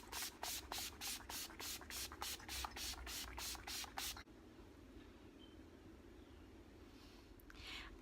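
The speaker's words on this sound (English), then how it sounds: "So I need to spray my face to get rid of some of this powderiness" About a dozen quick, evenly spaced spritzes of a makeup setting spray bottle misted onto a face hiss up close, then stop, leaving quiet room tone.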